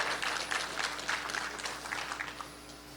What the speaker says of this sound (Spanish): Un aplauso para un ex alumno, señores.